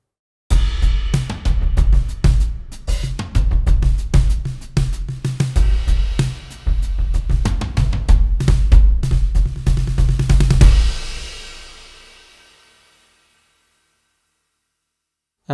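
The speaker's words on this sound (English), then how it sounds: "And here's a little groove on this kit." A vintage acoustic drum kit from a sampled virtual instrument plays a steady groove, punchy kick and snare with busy hi-hats and cymbals, loud and close, ending on a ringing cymbal that fades out.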